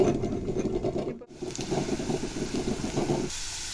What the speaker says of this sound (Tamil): இப்போ இஞ்சி பூண்டு வதங்கிடுச்சு